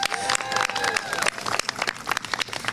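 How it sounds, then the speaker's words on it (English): A rally crowd at a lawyers' march for democracy breaks into applause, with clapping mixed with whoops and cheering voices, loud and close throughout. "So let's give a round of applause to everyone here."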